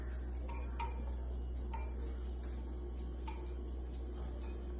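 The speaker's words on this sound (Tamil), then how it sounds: "ஃபர்ஸ்ட் எக்க மிக்ஸ் பண்ணிக்கலாம்" Eggs being whisked in a mixing bowl for a honey cake: a few sparse metallic clinks of the whisk against the bowl over a low steady background hum, close and fairly quiet.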